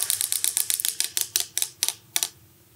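A prize wheel spins and clicks in a steady run of sharp ticks, evenly spaced at first and then slowing and spreading out until it stops, close and clear with no talk.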